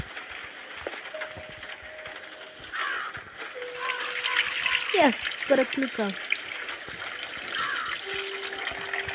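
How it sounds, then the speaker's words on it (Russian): Running water from a tap splashes and gurgles steadily, with a few squeaky tonal whines and a brief spoken phrase over it. "вливаємо воду."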